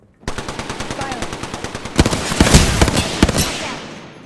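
Rapid machine gun fire in a video game, a dense, evenly spaced burst of loud close shots that swells in intensity midway before tailing off, with a faint voice underneath.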